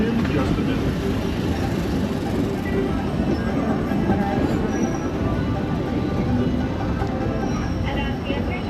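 Disneyland Railroad train rolling toward Tomorrowland Station on its Grand Circle Tour, a steady, loud rumble of wheels and car noise throughout, with faint sounds of passengers talking underneath.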